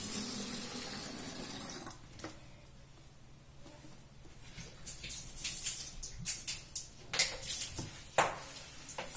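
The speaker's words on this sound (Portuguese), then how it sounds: "Vou jogar aqui uns 250 ml de água." About 250 ml of water poured onto a dry cloth floor rag in a kitchen, a soft close splashing pour broken by a few sharper splats toward the end.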